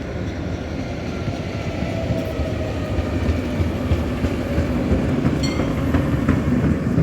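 A tram rumbles past close by in a steady, loud roll of wheels on rails, with faint clicks and squeaks over the low drone.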